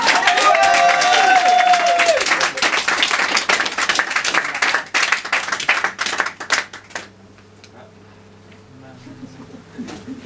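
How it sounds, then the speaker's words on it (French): An audience at a thirtieth birthday party claps loudly for Mademoiselle Alice. The dense applause fades out after about seven seconds, leaving quieter voices and room noise. "alors je vous demande d'applaudir très très fort, mademoiselle Alice"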